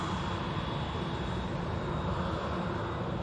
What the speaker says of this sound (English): just touching down on runway 23 right at the moment